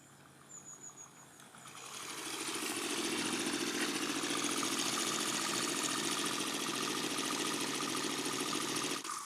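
A Stirling engine fitted to a bicycle wheel runs steadily with a dense, buzzing mechanical drone, rising in the first two seconds and then holding at a constant loud level.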